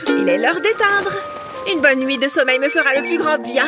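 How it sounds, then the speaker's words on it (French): A mobile phone ringtone plays a steady, tonal melody at moderate volume under continuous speech in French. "C'est mon téléphone"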